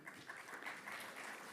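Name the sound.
audience applause at graduation ceremony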